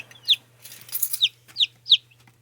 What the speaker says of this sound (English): So I prepared this area for our meat chickens.